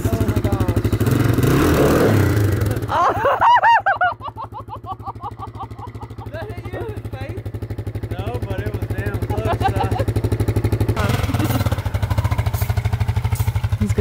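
An ATV engine runs steadily up close in winter snow, its low chugging drone continuous while voices talk over it.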